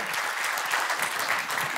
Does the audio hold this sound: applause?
yes